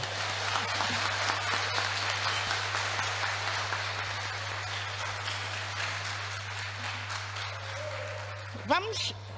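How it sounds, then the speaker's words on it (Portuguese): An audience at a colloquium on press freedom in Angola applauds warmly, a broad, steady clapping wash over a constant low electrical hum, fading slightly toward the end where a brief voice or squeak cuts in. "podíamos todos terminar aplaudindo efusivamente para que ele volte"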